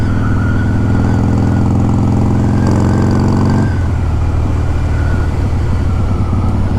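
A Harley-Davidson Softail motorcycle cruises along a road with its engine droning loud and close, the low rumble holding steady and then shifting pitch as the gears change, with wind noise and no talk.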